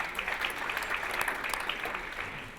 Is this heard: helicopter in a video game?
no